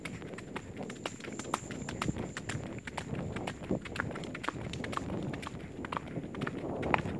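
A horse walking with hooves striking the ground, steady clip-clop footfalls repeating at close range amid light outdoor background noise.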